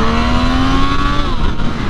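A 2024 Triumph Street Triple R three-cylinder motorcycle engine revs loudly and steadily, its pitch climbing then easing slightly, with a smooth, throaty howl throughout.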